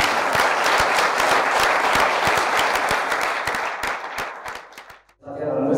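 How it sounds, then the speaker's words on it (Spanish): A large audience gives sustained, dense applause to people who stayed through a three-hour event, the clapping loud and continuous before fading briefly, then a voice speaks. "Un aplauso para ellos"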